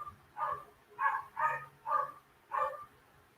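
A few dogs bark indoors, five short, moderately loud woofs in an uneven rhythm over a few seconds, with no one talking during the barks.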